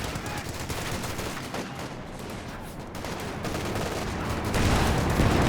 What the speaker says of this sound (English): I think I hear bars on them as well as the M1919s.